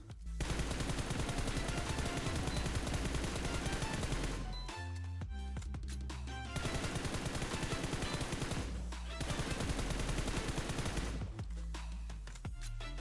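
Automatic gunfire from PUBG Mobile rattles in long, loud, rapid bursts separated by brief pauses, with the sharp shots dense and close-sounding.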